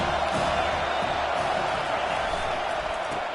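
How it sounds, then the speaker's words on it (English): Football stadium crowd roaring in a steady, dense wash of cheering and shouting, loud and continuous with no clear breaks. "Man, this crowd really affecting the football."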